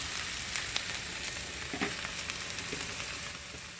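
Okra fries in a pan, a steady close sizzle with soft crackles and pops sounding throughout, moderately quiet and alone with no voices.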